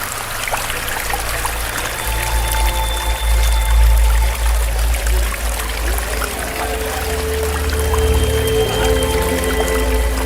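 Water runs down the cascades of an interactive art installation in a steady trickling, pouring wash, with a low rumble underneath and faint tonal hums throughout, continuous and fairly close.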